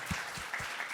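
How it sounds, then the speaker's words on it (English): An audience applauds young entrepreneurs at a business conference, steady clapping from many hands in a room, moderately loud, with no voices over it. "Round of applause for all of our young entrepreneurs in the room."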